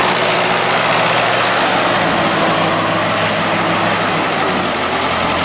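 A vintage tractor from 1956 idles loudly close by, a constant rumbling drone that holds an even pitch without revving throughout.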